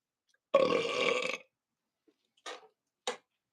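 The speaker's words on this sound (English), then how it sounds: "That was a water burp." A single long, loud, close burp after drinking water, followed by a few short faint clicks and knocks.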